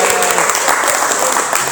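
Loud, dense clapping from a classroom group, steady throughout with a faint voice or two underneath.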